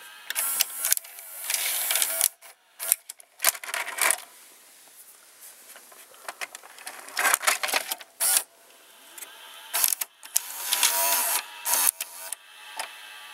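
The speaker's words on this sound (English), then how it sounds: "That's the mechanism that connects the capstan motor to the ejecting mechanism." Hitachi M191 or RCA VR683HF VCR mechanism, its capstan motor turning gears in the eject assembly, giving close, intermittent whirring, clicking and clattering bursts separated by short silences, with no voices.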